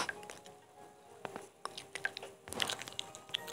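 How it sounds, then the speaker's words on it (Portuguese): In the video game Primeval Earth, a monolophosaurus drinks water at a lake, making soft wet lapping and slurping sounds in irregular bursts that grow busier toward the end, quiet and close, with no talk. "Deixa eu beber aqui aguinha, porque é muito importante beber água."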